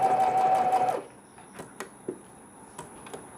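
A sewing machine runs at a steady clip for about a second, stitching piping onto a baby romper, then stops, leaving a few small clicks and taps as the fabric is handled.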